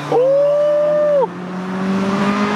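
A Honda VTEC engine revs sharply upward in one quick climbing pull, then drops off to a lower idle-like drone, heard close and loud.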